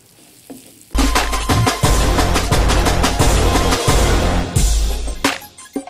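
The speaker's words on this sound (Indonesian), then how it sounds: "Kemudian kita masukkan di sini kemangi. Kita aduk lagi." Squid sambal with basil leaves being stirred in a frying pan, loud broadband sizzling that starts abruptly after a quiet second, with repeated scraping strokes of the spatula and a brief lull near the end.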